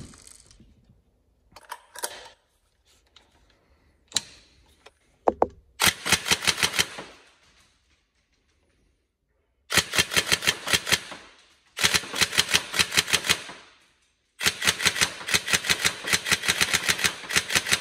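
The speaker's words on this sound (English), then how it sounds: "And we are now ready for obviously testing, just to demonstrate it working." Tokyo Marui MK18 NGRS airsoft electric gun fired in close-up bursts: a few scattered handling clicks, then several sustained rapid-fire strings of sharp mechanical cracks separated by short pauses.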